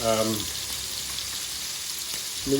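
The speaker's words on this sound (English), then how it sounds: "once you've got them down on the pan and they are frying, you want to leave them alone" Scallops sizzle steadily in a hot pan with a broad, even frying hiss throughout, and a voice briefly speaks at the start and end.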